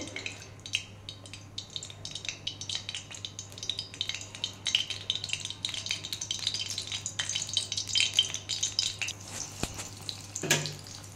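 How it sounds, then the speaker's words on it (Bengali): Lentil dumplings (bodi) frying in oil in a wok, a steady close crackle and sizzle with scattered pops and a brief clatter near the end, no voices. "আমি লাল শাকটা একটু বড়ি দিয়ে ভাজবো, তাই তেলে একটু বড়ি ভাজবো।"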